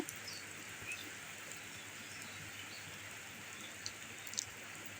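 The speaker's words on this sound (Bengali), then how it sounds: "এই বৃষ্টির মধ্যে আমি সব কাজ বাজগুলো সেরে নিলাম আস্তে আস্তে" Rain falls steadily outdoors in a village, making a faint, even hiss with a few soft drip ticks, and no voices are heard.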